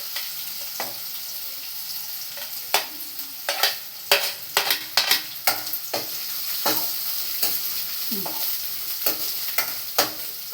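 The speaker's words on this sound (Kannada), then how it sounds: "ಈಗ ಈರುಳ್ಳಿ ಹಾಕ್ತಾಯಿದ್ದೀನಿ." Finely chopped onions fry in a pan, tossed in with browned garlic: a constant sizzle broken by repeated sharp scrapes and clacks of a utensil stirring, close and fairly loud, with no voices.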